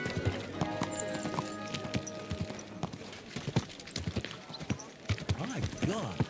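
Horse hooves clip-clop in Kingdom Come Deliverance 2, first as a dense run of rhythmic beats, then thinning into separate, irregular hoof strikes that are close and clear, with a short whinny-like tone in the middle and no voices.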